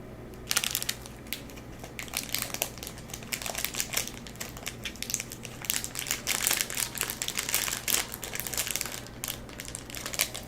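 A bag of small oyster crackers crinkles and crunches up close in a steady series of sharp, papery bursts that run through the whole stretch, with no talking.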